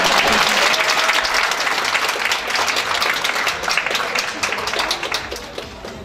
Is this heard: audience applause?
yes